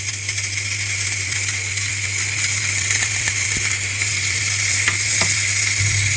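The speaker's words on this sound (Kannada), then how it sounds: "ಎಣ್ಣೆ ಹಾಕ್ಕೊಳ್ಳಂತ ಒಂದು ಸ್ವಲ್ಪ." Oil sizzles steadily in a pan while tempering is readied for sambar, a continuous bright hiss with a low hum beneath and a few faint clinks.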